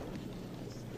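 Gusty wind buffeting a microphone on an LPGA golf course, a steady low rumble with slight surges throughout, fairly quiet and with no talk.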